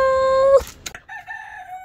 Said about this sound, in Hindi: यार मुर्गा बोल ही रहा था